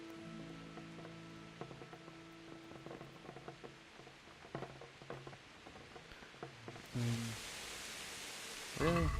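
Steady rain hiss in the medieval video game Kingdom Come, faint under scattered game sounds and voices, then swelling louder near the end.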